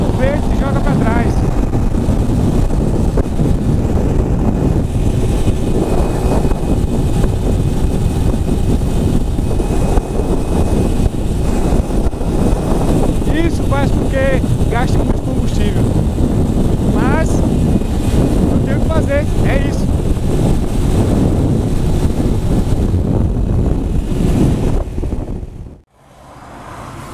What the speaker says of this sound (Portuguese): Agora eu vou pegar vento, olha. Olha a diferença, velho. O vento bate no peito e joga pra trás.